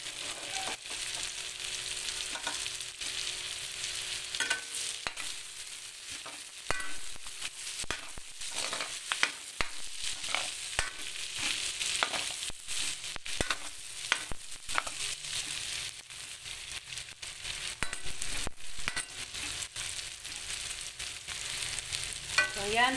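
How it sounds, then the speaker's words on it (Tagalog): Onions sizzle and fry in a pan for pork caldereta, a steady crackling hiss broken by frequent scraping stirs and clicks of a utensil, close and continuous with no talking. "Ayan po muna natin medyo maluto ang ating sibuyas."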